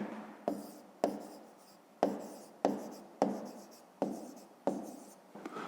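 A pen or chalk scratches out an answer in a fifth-grade maths exercise: about nine short, crisp strokes in an even rhythm, each a sharp attack that quickly fades, quiet and close.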